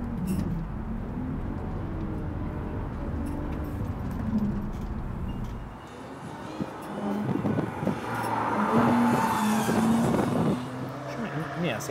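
A BMW Z4 and a Porsche Cayman 981, each rated at 265 hp, run a timed lap on a track, with a steady engine drone and tyre noise throughout that swells in the second half beneath a voice speaking.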